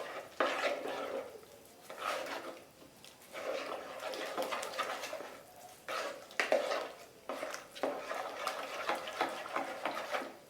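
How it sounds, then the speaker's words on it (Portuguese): Bread dough mixture stirred in a bowl as liquid is added gradually, giving a close series of soft, wet scraping and slapping strokes in an uneven rhythm, with no voice over it. "vai mexendo."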